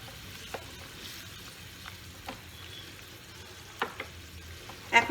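Green peas go into a pan of sizzling potato and eggplant, giving a steady low frying hiss broken by a few soft stirring clicks and a louder clatter near the end, with no one talking.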